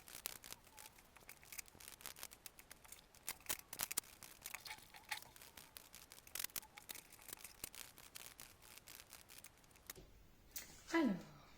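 Tarot cards are shuffled and drawn in quick, sped-up handling, with a dense run of crisp card flicks and soft slaps followed by a short sliding swish at the end.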